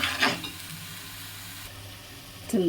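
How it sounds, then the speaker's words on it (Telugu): Onion paste for a fish curry sizzles in a hot pan, with a brighter burst of frying at the start and again at the end around a steady, soft crackle. "బాగా వేయించుకోవాలి, లేకపోతే పచ్చి వాసన వస్తుంది."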